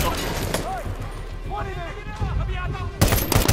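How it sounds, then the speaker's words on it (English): Gunfire in the video game Medal of Honor: Warfighter during a parkour chase, a steady crackle of shots under game voices, with a louder burst near the end. "Who's shooting me?"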